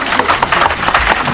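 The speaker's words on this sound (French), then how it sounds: "Est-ce que vous pouvez applaudir pour Masta?" A crowd applauds with dense, steady clapping throughout, fairly loud and continuous, no voices standing out.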